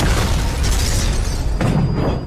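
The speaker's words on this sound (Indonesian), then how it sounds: "terjadilah sebuah ledakan di kilang tersebut" A loud, roaring explosion at an oil refinery with a sustained rumbling blast and debris-like crackle, cutting off abruptly at the end.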